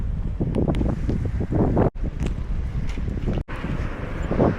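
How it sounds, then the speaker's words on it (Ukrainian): Strong wind buffeting a microphone while riding a bicycle outdoors, a loud, rumbling roar of gusts that drops out briefly twice, with no voices. "зараз і вітер заважає розмовляти"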